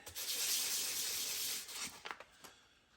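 Sandpaper rubs hard against a part from a 1966 Corvair driveshaft, a close, steady scratchy hiss for about two seconds, then a few lighter, uneven strokes fading out.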